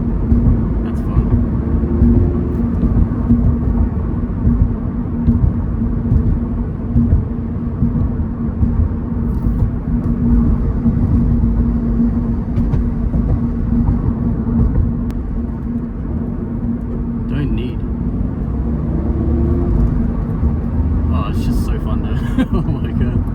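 A manual 2023 Subaru BRZ driving through corners, a loud steady engine and road rumble from inside the cabin, with voices talking over it.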